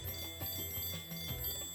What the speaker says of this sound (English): I just love the chimes.